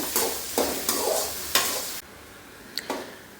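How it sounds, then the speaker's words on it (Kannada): Onions frying over high heat until golden, with four vigorous stirring strokes scraping through a loud, close sizzle, then the hiss drops to a quieter simmer broken by one more brief scrape and a metallic clink. "ಚೆನ್ನಾಗಿ ಈರುಳ್ಳಿ ಗೋಲ್ಡನ್ ಕಲರ್ ಫ್ರೈ ಆಗೋ ತನಕ ಫ್ರೈ ಮಾಡ್ಕೋಬೇಕು"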